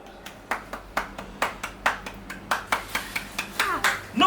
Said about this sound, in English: I only clapped.